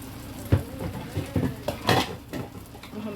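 Metal clatter of a lid set onto a karahi pot holding quail, with several clanks and knocks over faint sizzling, close and moderately loud.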